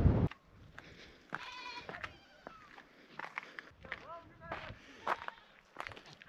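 Several short, wavering goat bleats call out at intervals outdoors in Morocco, from goats up in trees, mixed with rustling and footsteps nearby.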